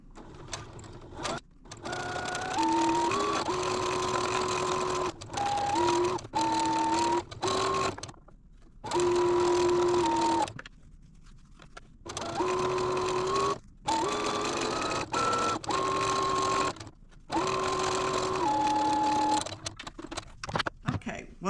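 Sewing machine stitching a quilt block for a beginner sampler quilt, running in repeated bursts of rapid stitching with short pauses and stops in between.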